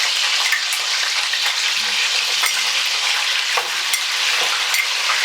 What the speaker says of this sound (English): So you see now the onion is frying